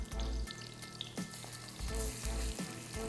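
Ripe plantain slices frying in a pan, a soft steady sizzle with faint crackles and occasional low clunks of handling, fairly quiet and close.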